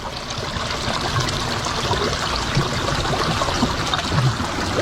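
Water pours and gurgles into a submerged car, a constant close rushing trickle with small bubbling pops throughout.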